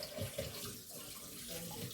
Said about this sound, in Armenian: Առաջնահերթ հիմա միսը լավ լվանում եմ հոսող ջրի տակ